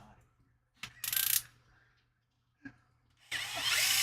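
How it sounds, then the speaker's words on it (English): Holes being drilled out in an RC crawler chassis so the screws line up: two short, whirring drill bursts separated by quiet gaps, with a few sharp mechanical clicks in between, close and fairly loud. "I'm drilling the holes out in this chassis, so that the screws will maybe sort of line up a little bit."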